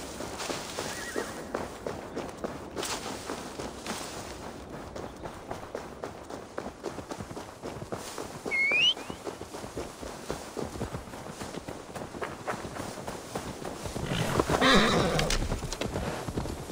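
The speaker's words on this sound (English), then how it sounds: "Deliver Magni his horse" A horse in the Assassin's Creed Valhalla video game trots along with a steady patter of hooves, letting out a brief neigh partway through and a louder whinny near the end.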